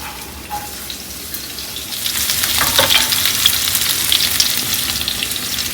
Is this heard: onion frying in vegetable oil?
yes